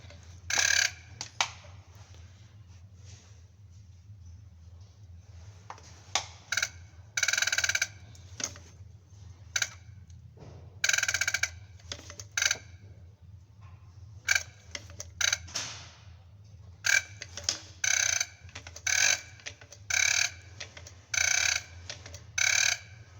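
A UTD-20 diesel fuel injector from a BMP-1 or BMP-2 engine is being tested. Sharp spray bursts come at irregular intervals, some single and some in quick clusters, over a low steady hum.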